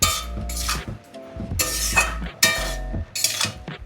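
Cumin powder being stirred into a bottle gourd and prawn curry in a pan on low heat. Several loud, close bursts of utensil scraping and clatter arrive roughly every second, with a low rumble between them.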